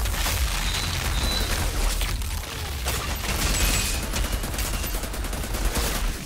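Assault rifle fire in the sci-fi shooter Outriders, a dense continuous barrage of rapid shots and impacts mixed with explosions and battle noise, loud and steady throughout.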